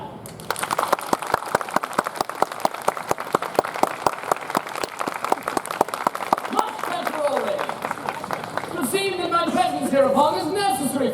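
Audience clapping hands in unison at a Renaissance-fair royal court show, a steady run of sharp claps under a talking voice, then louder overlapping speech and laughter near the end.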